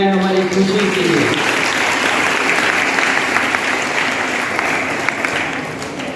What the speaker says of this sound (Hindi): जोरदार तालियों से स्वागत करें बच्चे।